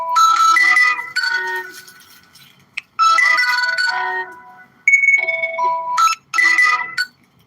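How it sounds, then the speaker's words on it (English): A phone ringtone plays in bursts of bright, sustained melodic tones, several rings separated by short pauses, fairly loud and close with no talk over it. "I hear my phone ringing."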